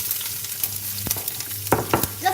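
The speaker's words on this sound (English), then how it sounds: "and then I'm going to fry my red pepper first" Red pepper frying in oil in a pan for cheese buldak, a steady close sizzle with a few sharp stirring clicks and scrapes, no talking.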